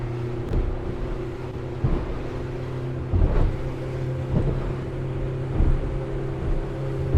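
Steady engine drone of a 2021 Quintrex 520 Ocean Spirit motorboat accelerating under wind buffeting, with rhythmic thumps as the hull slaps choppy water.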